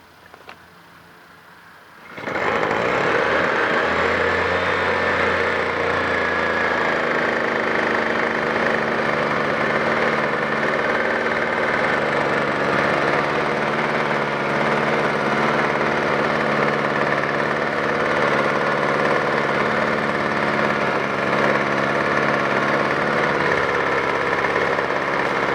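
A small two-stroke engine runs on a workbench with the choke on and the throttle closed, starting abruptly after a quiet moment and then holding a loud, steady, buzzing idle with slight roughness throughout.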